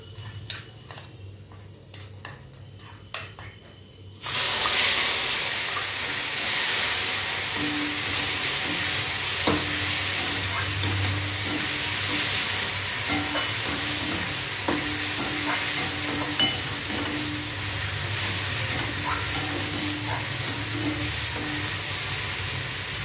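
Mashed tomato with coriander, turmeric and chili powders hits a hot pan after a few quiet seconds, bursting into a loud, steady, hissing sizzle that carries on with faint scraping and bubbling underneath.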